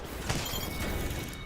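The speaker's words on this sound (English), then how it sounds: "Rota la Catalyst." Catalyst's shield shattering during an Apex Legends ALGS Year 4 Championship match, a sharp glassy burst over dense game noise and crowd ambience, brief and fairly loud.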